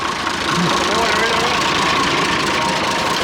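A vintage tractor engine, an Oliver or International with its steering seized, idles in a steady, loud, even rumble that runs unbroken the whole time.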